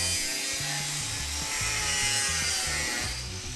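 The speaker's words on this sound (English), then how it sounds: "grind off the edges that are left from our bulkhead lip" A tool grinds off leftover bulkhead lip edges on the metal floor of a Jeep JK, a loud, steady, harsh whine that never lets up, with no talking.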